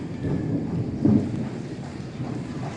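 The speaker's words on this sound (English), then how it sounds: "that was actually a pretty good thunderclap" A thunderclap in a neighborhood thunderstorm, heard as a deep, rolling rumble with a slight swell around the middle, steady and fairly loud over faint rain, with no talking.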